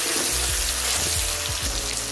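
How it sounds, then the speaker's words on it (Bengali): Chopped tomatoes frying in a pan for an egg and prawn biryani, a steady watery hiss and bubbling with low thumps recurring every half second or so, close and moderately loud with no talk. "টমেটোটা দিয়ে একটু ভেজে নেব।"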